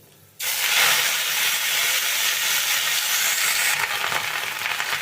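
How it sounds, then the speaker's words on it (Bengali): Pumpkin greens drop into hot oil with nigella seeds over a low flame. After a brief quiet moment a loud, steady sizzling hiss bursts up close and keeps going without a break. "এবার আমি এর মধ্যে কেটে ধুয়ে রাখা কুমড়োর শাকটা দিয়ে দেবো"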